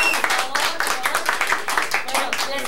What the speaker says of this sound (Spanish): quiero por favor un fuerte aplauso para Carlos Montalvo